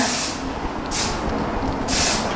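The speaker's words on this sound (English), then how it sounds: "Spray it a little bit more." Three short bursts of hairspray from an aerosol can hiss close up, evenly spaced, with no talking.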